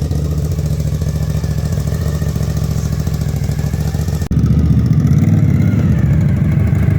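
Suzuki TL1000S motorcycle engine running steadily at close range, a low throbbing mid-pitched drone with a brief dip before the sound grows louder and rougher.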